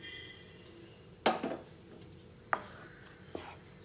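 Ground paste being stirred into a pot of sambar with half-cooked vegetables: a few scraping clinks of a spoon against the pot, one longer stroke followed by two short taps, close and fairly quiet, no talking.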